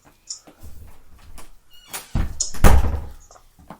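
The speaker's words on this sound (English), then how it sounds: "Dude, stop kicking my door." Several thuds from a door being kicked, with one hard, loud bang near the end, the blows uneven and close by.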